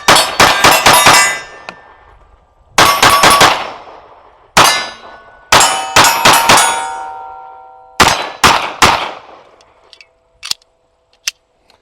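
Icarus Precision 311 2011 pistol firing short strings that end with the slide locking back, sharp loud metallic cracks in bursts of three to five with ringing decay, followed by a few faint clicks.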